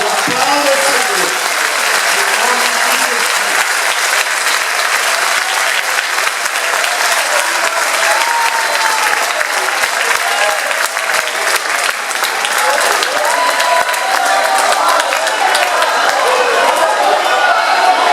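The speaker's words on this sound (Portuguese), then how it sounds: "Pode aplaudir a Deus, meu Deus." A church congregation applauding to God during a revival service, loud sustained clapping from a large crowd that fills the whole stretch, with a voice faintly present beneath.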